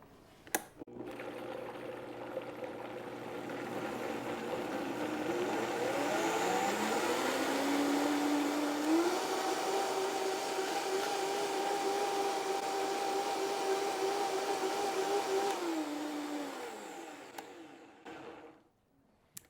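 Loud machine pureeing strawberries for syrup, a whirring motor that spins up, climbs in pitch and holds a steady roar for about ten seconds before winding down, with a few clunks at the start and end.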